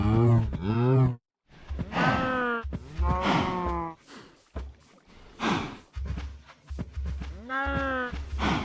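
Cows in Minecraft moo repeatedly, several drawn-out low calls spaced over the stretch, fairly close and clear with short gaps between them.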